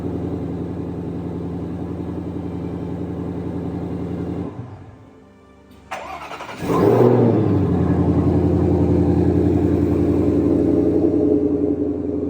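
A Shelby GT500 engine cranks after a PCM change, cuts out briefly, then catches and roars to life, settling into a loud steady idle with a low rumble.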